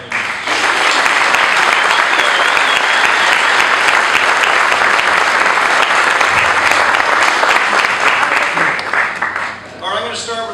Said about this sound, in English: How about a round of applause for our family members?